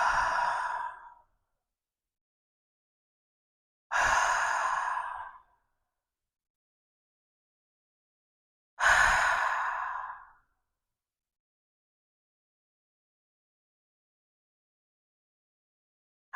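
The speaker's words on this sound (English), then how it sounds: "I could hear whatever it was breathing." Three slow, heavy exhales from an unseen entity, each long and breathy, spaced several seconds apart with near silence between, close and fairly loud.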